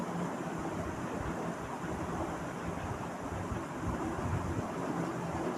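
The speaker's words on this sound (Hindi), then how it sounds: "और ये मैंने सारे चावल इसके अंदर डाल दिए हैं।" Five cups of rice tipped into a pot of boiling water salted with about five tablespoons of salt, for a white biryani; a steady, dense rushing and bubbling wash fills the whole stretch with no voices.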